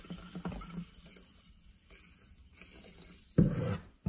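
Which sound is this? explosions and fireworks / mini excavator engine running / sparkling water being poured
sparkling water being poured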